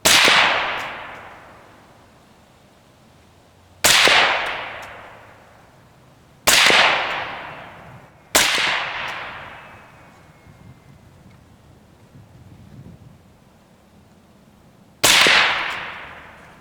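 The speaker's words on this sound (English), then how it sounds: "let's put some more bullets down range" A suppressed .223 rifle fires five separate loud shots, spaced a few seconds apart. Each sharp crack is followed by a long, fading outdoor echo.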